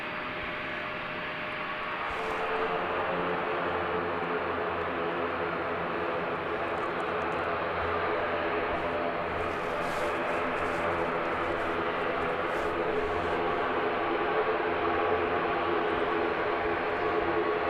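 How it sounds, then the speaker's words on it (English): An ATR turboprop airliner departs Christchurch Airport, its engines a broad, steady droning roar that swells after the first couple of seconds and holds loud and continuous throughout. "Another ATR heading off to Invercargill now, NZ5705."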